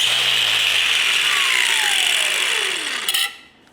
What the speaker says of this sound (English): we're just going to cut a groove straight down the center of that bolt